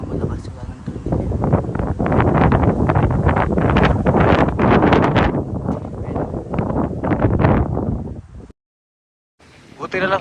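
Gusty wind buffets the microphone while a loose downspout rattles and clatters overhead in rapid, irregular bursts, then cuts off briefly near the end.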